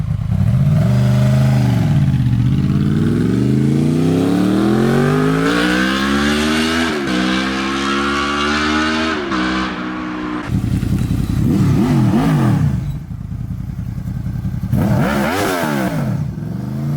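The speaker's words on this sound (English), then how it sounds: "I do have an exhaust clip from when I had the Delcovic slip-on exhaust, and you can hear it, and it sounds glorious." A 6th-generation Honda VFR800 V4 with a Delkevic slip-on exhaust revs hard and loud nearby, engine notes climbing and falling through several sweeping rises, then a short pause and further sharp blips, with no talking.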